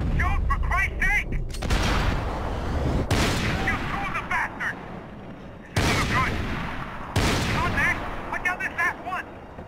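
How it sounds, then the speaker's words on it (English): Gunfire in the video game Max Payne 3: several loud, sharp bursts of shots at irregular intervals, each cutting through a busy game soundtrack, with a player talking over parts of it. "I shot the gun right out of his hand."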